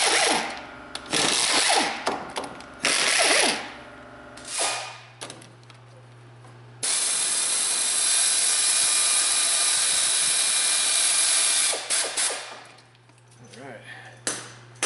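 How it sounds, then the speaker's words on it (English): An impact or power tool backs bolts out of a Dodge Ram front differential with a 13 mm socket, giving loud sustained whirring bursts with pauses and rattly clanks between them, close up. "Take our same 13 and pull these bolts out."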